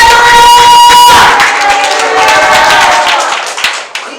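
Church congregation applauding for the Lord at a Filipino online gospel service, a dense, loud wash of hand clapping that starts strong, thins slightly, and trails off toward the end with a few scattered claps.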